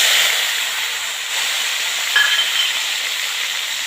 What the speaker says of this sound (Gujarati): તેલ ગરમ થઈ ગયું છે. રાઈ જીરું નાખી દઈશું, હિંગ નાખીશું